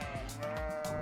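A single sheep lets out a wavering, nasal bleat lasting about a second, fairly quiet and heard alone.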